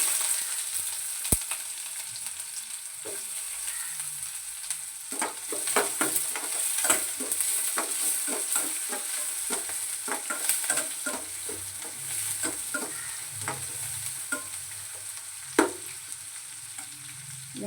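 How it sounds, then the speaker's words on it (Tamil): Chopped onions fry in a pan for a red poha upma, a steady sizzle broken by repeated scraping strokes of a spatula stirring them, close and alone. "அடுத்து நம்ம கட் பண்ணி வச்சுக்க வெங்காயத்தை சேர்த்துக்கிறோம்."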